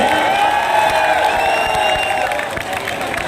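An audience at an election campaign rally in Bhiwandi applauds to welcome MP Iqra Hasan, with steady clapping mixed with crowd noise and raised voices over it.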